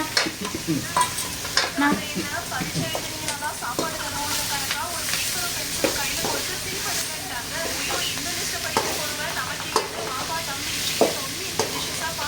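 Salted dried meat (uppu kandam) fries in a pan with a loud, close sizzle and hiss, punctuated by frequent scraping stirs and popping bursts, with intermittent voices.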